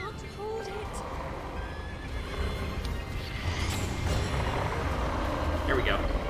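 Horse in Zelda Breath of the Wild whinnies in short calls over game background noise and hoofbeats, with a player talking faintly beneath.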